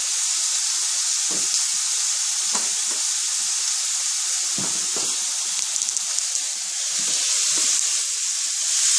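Seasoned chicken searing in a hot pan gives a loud, continuous bright sizzle. A few soft clinks and stirring knocks sit underneath it, and no one speaks.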